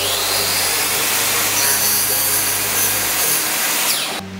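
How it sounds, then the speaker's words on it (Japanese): A circular saw cuts through wood while an inner wall is built in a large garage, a loud continuous whining rasp that runs for about four seconds before cutting off abruptly. "丸ノコで刃を入れて"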